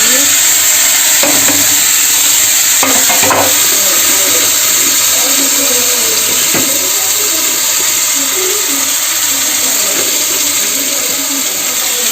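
Vegetables fried in hot oil in a kadhai give a steady, loud sizzle with faint clinks and stirring scrapes throughout, no voices over it.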